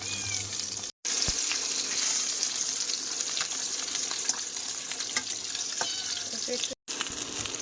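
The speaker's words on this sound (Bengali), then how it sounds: "আজকে ইন্ডাকশানে মাছ ভাজছি" Fish fries in oil in a pan on an induction cooktop, a steady close sizzle and spatter running throughout with two brief dropouts and faint occasional clinks.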